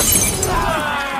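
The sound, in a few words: glass bottle smashing in a gang fight film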